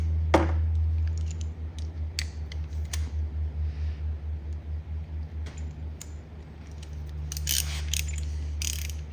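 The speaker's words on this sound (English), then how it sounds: "I can just put that on a socket wrench" A socket wrench ratchets on an engine part during a 1964 Ford Galaxie engine build, giving a steady run of rapid, even clicks for several seconds over a low hum, with louder clanks before and after.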